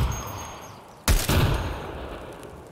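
Escape From Tarkov AGL grenade detonating about 10 yards away on the Reserve map: a sudden sharp double-edged blast after a quiet lead-in, followed by a rumbling decaying tail.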